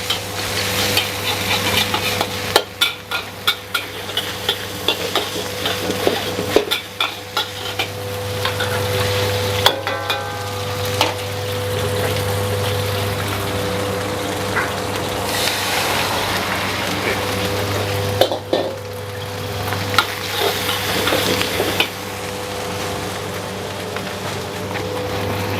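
Seafood fried rice is stir-fried in a busy food-stall kitchen, with a steady loud sizzle over a constant burner roar and repeated scraping and clanking of a spatula against the pan.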